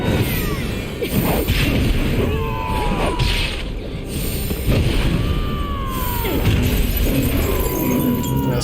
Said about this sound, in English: This guy's smashing with the hammer.